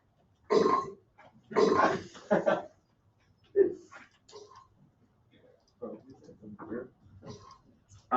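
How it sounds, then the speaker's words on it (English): Cartoonish burp sound effects from the Kaboom game library, played as a series of short separate bursts with quiet gaps between them, close and fairly loud. "So there's the chorus of burp sounds."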